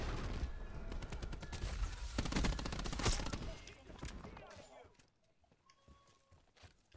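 Weapon fire in a Call of Duty match crackles in rapid, loud bursts for about three seconds, then thins out to scattered distant shots and quiet game noise, with faint voices in the background.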